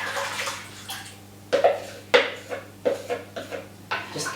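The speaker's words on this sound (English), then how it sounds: "Just give that a bit of a stir around." A spoon stirs a thick beef and ale stew in a Dutch oven, making soft wet sloshes and occasional clinks against the pot in a loose, close rhythm.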